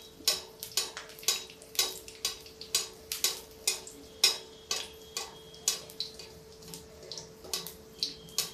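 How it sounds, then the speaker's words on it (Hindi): Hot oil poured over gram flour (besan) batter for pakoras while making kadhi, with a series of sharp, regular splashing crackles and sizzles close up, one burst after another over a faint steady hum. "इसके ऊपर हम थोड़ा सा गरम गरम तेल ऐसे डाल देंगे"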